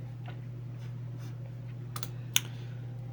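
Soft keyboard typing, a few scattered key clicks and one sharper tap, over a steady low electrical hum.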